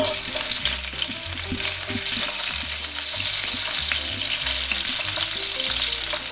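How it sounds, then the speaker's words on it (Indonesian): Garlic sizzles steadily in hot oil, a dense continuous crackle and hiss that holds at an even level throughout, up close and with no voices. "Kalau minyaknya udah panas, kita masukkan bawang putihnya."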